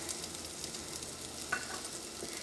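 Ginger garlic paste and spice powders sauté in oil for a Kerala-style mutton curry, a faint, steady close sizzle with a soft scrape of stirring, no talking.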